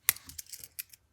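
Metal scissors on a Wenger pocket knife flicked open at close range: a sharp click followed by a few small light metallic snaps and clicks, quiet and isolated.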